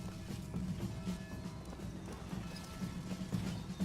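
Steady clip-clop of hooves at a brisk pace under a constant mechanical hum, like animated mechanical horses trotting in the game Bioshock Infinite, with no talking.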